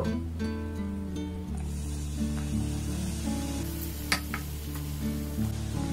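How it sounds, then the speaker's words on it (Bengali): Eno fruit salt fizzes as a little water is added to it, giving a soft, steady sizzling hiss under a low background hum. A couple of brief clinks break through near the end. "ইনোর মধ্যে সামান্য একটু আমি জল দিয়ে দেব।"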